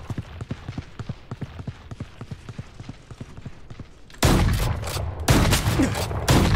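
Rapid bursts of gunfire in the Valorant video game, loud and close, hitting in two heavy clusters after a stretch of quieter rhythmic footsteps-like tapping.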